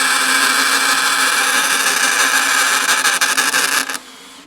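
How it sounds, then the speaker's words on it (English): A drill bit bores into the metal of a Mercedes 308D T1 truck, a loud, harsh, continuous grinding screech lasting about four seconds before cutting off abruptly. "I think that drill bit, actually, the noise might be the fact that it's good"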